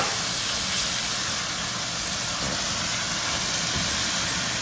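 Bouillon cubes and salt sizzling in hot oil in a cooking pot, a steady, loud, continuous frying hiss with no pauses and no talk.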